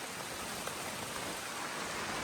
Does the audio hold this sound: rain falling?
yes